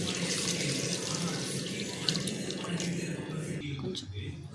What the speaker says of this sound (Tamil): புளி தண்ணி ஆட் பண்ணிக்கலாம்.